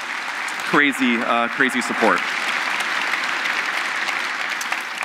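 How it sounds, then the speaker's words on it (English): Conference keynote audience applauding for a cloud-computing anniversary, a crowd's steady clapping that begins under a speaker's brief remarks and continues alone at an even level. "So let's do a little round of applause"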